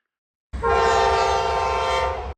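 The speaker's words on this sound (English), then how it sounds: "another Norfolk Southern train loaded with covered hoppers came absolutely flying past on the adjacent track" A Norfolk Southern freight train loaded with covered hoppers speeds past on an adjacent track, its horn sounding as one steady, loud blast over the rumble of the passing cars.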